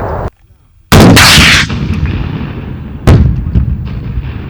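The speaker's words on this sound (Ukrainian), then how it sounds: "Оці військовослужбовці стріляють з гранатомета перший раз" A single booming grenade launcher blast erupts during military training, followed by rumbling echo and a second sharper report a couple of seconds later, loud and outdoors.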